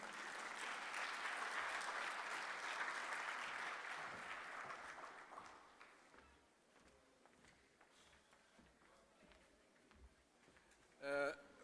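An audience at a university faculty's postgraduate research day claps for a professor, the applause filling the first half and then fading into quieter room noise.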